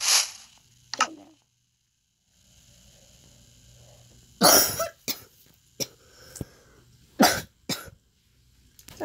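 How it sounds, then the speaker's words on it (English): Several sharp coughs break out in short bursts, a couple early and a cluster later, separated by quiet stretches with faint background hum. "Coughing again."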